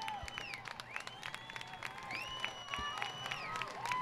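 A crowd on both sides of a high school football game between the Canyon Cougars and Steele Knights gives a steady ovation of applause and cheering, heard at a distance under a broadband wash, with scattered whistles and shouts.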